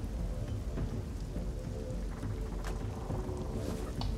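A rain ambience effect plays as background during a tabletop role-playing session, a dense, continuous downpour with low rumbling like distant thunder, steady throughout and with no voices over it.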